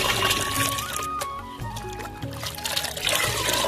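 A dark liquid solution trickles and splashes as it is poured onto the base of rose plants, a continuous close pouring with gurgles and uneven surges.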